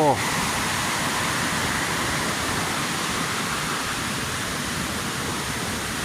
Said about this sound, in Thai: น้ำตกพญาเตา